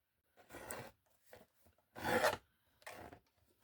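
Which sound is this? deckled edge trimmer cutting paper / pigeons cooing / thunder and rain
deckled edge trimmer cutting paper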